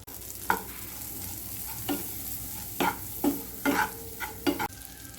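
Sweet corn with salt, pepper and chaat masala being stirred in a pan, a sequence of scraping spoon strokes against a soft sizzle, close and moderately quiet with no voices.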